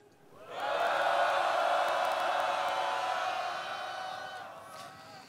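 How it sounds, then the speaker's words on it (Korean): Crowd at a labor union rally raising a sustained collective shout on cue, a loud unified roar of many voices that swells quickly, holds for several seconds and slowly fades. "힘찬 함성 부탁드리겠습니다."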